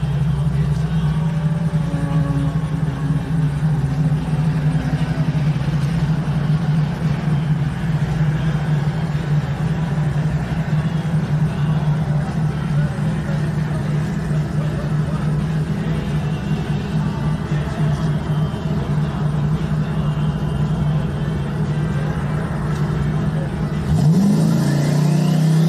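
A Chevrolet Camaro's engine holds a steady, loud drone at a drag-strip test-and-tune session, running continuously with a sharp rise in revs near the end.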